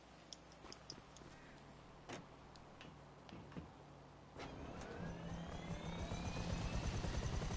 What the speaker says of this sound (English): hop back in your helicopter